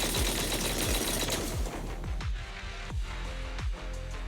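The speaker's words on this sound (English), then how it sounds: "That was the sound of a heavy cannon?" Rapid heavy cannon fire in Zenless Zone Zero pounds out a fast, rhythmic string of sharp low thuds that slows into spaced, punchy blasts over a dense droning backdrop.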